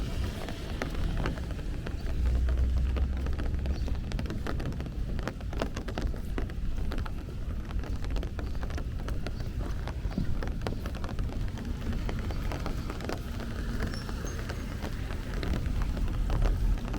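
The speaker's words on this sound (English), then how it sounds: "Sounds like it's raining a little harder." Steady rain falls on a Brooklyn street in Bay Ridge, a continuous broadband hiss with scattered drips and light wind rumble, heard close and even throughout with no talking.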